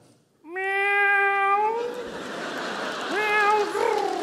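A cat meows twice, close and loud, a long drawn-out meow followed by a shorter one, with faint background noise.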